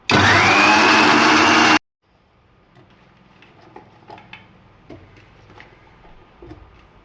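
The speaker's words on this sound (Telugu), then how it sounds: "ఆన్ చేసుకొని ముందు అల్లం ముక్కలు, పచ్చిరకాయలు వేసి ఆడిద్దాం" A mixer grinder blending ginger pieces and green chillies runs in a loud, dense whirring burst for nearly two seconds, then cuts off abruptly, leaving faint clinks and handling noises in a quiet kitchen.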